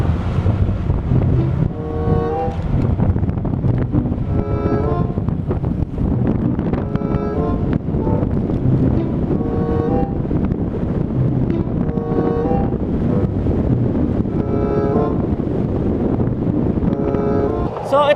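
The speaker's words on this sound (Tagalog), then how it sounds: "Try natin na tumatakbo yung motor habang nakasalpak dito sa may motor natin itong GoPro." A motorcycle runs steadily on the road with a GoPro Hero 3+ mounted on the bike, and heavy wind buffets the mic over a continuous engine drone across the whole stretch.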